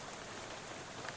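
Rain falls at night in the game Shadows Over Loathing, a dense, even patter of drops that stays constant and fairly soft throughout the short stretch, with no voices.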